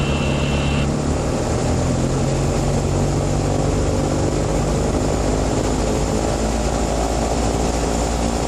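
A Diamond DA40 light airplane's propeller engine runs up to about 2,000 RPM, a loud, steady droning roar with a deep throb that holds strong and constant throughout.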